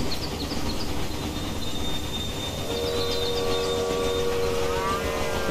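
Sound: train arriving in New York, Railway Empire video game

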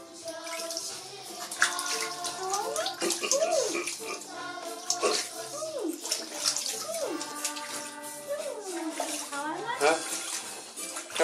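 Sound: child splashing water while swimming with a swim trainer ring

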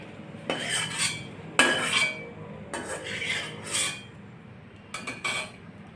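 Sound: almonds being roasted in a pan

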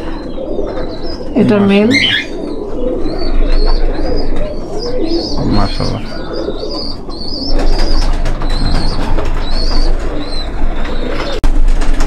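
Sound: imported red-eyed pigeons cooing

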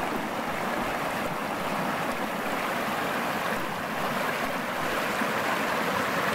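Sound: stream flowing

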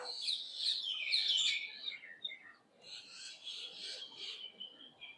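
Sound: pigeons cooing and chirping inside cave

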